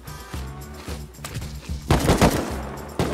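Video game gunfire from a clan robbery raid, with rapid automatic bursts and repeated shots at close range that build into a dense volley midway through.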